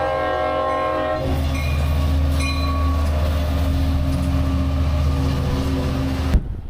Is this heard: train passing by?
yes